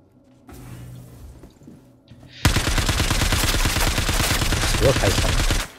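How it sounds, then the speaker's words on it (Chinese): Rapid automatic gunfire erupts suddenly in the Star Citizen video game after a quiet stretch, a loud, dense burst of shots that continues steadily for several seconds before stopping. "谁又开枪了？"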